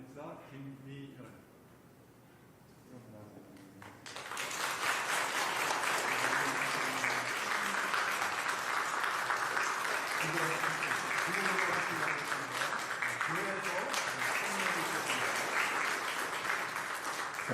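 A church congregation in Wonju breaks into loud, sustained applause at a Sunday service, blessing a newly settled elder's family who completed the new-member course; brief spoken words come first, then dense clapping fills the room.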